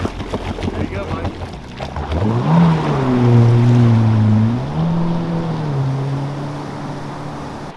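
A 440 jet ski engine idles nearby on the water, its low droning pitch rising and wavering as it runs, with people talking over it.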